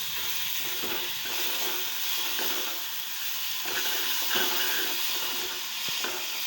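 Continuous steady sizzle and hiss of masala frying in oil for a jalla fish curry, loud and close, with faint stirring scrapes under the dense frying noise.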